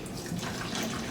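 Distilled water poured onto dry cocoa bedding in a lizard enclosure, a steady soft trickling and splashing held at an even level for about a second, close by with no talk.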